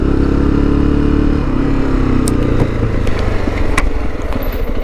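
A motorcycle engine runs close by at the entrance to Galičica National Park, a steady loud rumble that idles and shifts slightly, with faint clatter and small clicks over it.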